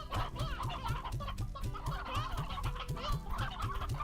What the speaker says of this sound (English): I know there's so many chickens in here.